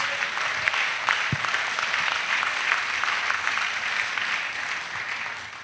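A congregation at an annual retreat of national missionaries in Côte d'Ivoire breaks into steady applause, a dense, even wash of clapping that holds at a constant level throughout.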